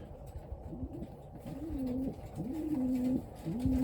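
Pigeons coo repeatedly inside a breeding loft on pairing-up day, low rolling calls rising and falling in a steady series, fairly close, over a soft background of rustling and other bird sounds.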